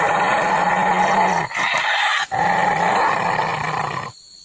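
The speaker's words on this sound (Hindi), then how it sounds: "वह लड़की चुड़ैल बन चुकी होती है और गुर्रा रही होती है।" A witch in a Hindi horror story voiced with a deep, continuous snarling growl, loud and close, running for several seconds with two brief breaks before cutting off abruptly.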